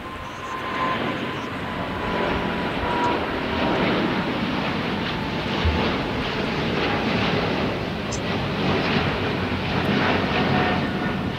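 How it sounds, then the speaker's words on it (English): An airplane taking off at LAX, a steady broad roar of jet engines holding constant throughout, loud and fairly close, with no voices. "Yes, that was a very beautiful takeoff, for sure."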